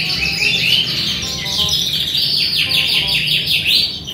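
A young canary sings continuously in rapid, high trills and chirps, close and fairly loud over a faint background murmur.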